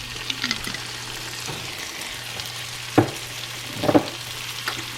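Taco sauce pours over sizzling Southwest shepherd's pie filling in a hot pan, giving a steady fry with a few sharp spattering bursts, close and moderately loud, with no talking.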